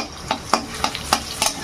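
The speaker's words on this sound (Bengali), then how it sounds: "এবার দিয়ে দেবো থেতো করে রাখা রসুনটাকে হালকা আগে ভেজে নেব" Crushed garlic frying in hot oil in a wok, with a soft sizzle under sharp, irregular spatula scrapes and taps against the metal, close and brief.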